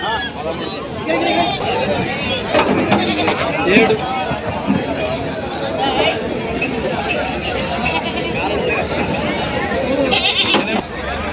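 Goats bleat repeatedly amid a busy crowd, with people chattering and calling nearby at a lively outdoor sheep and goat market in Pebbair, as young goats are loaded onto a vehicle.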